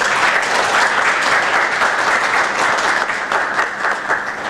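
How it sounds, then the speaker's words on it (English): Sustained audience applause at a Toastmasters Club keynote event, loud and dense with steady clapping throughout and no pause. "Big round of applause."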